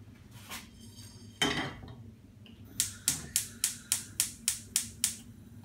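Whole spices and black peppercorns shift in a pot over the heat while being stirred for a biryani. A few scattered clinks come first, then a quick regular run of about ten sharp, close taps and rattles.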